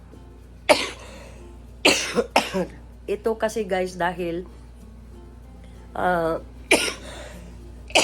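A few sharp coughs and a throat clearing come between bursts of close speech from one person.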